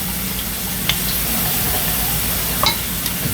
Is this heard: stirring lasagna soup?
yes